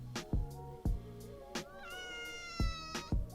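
A cat meows several times, short calls and one longer drawn-out meow, fairly close and clear, with light knocks in between.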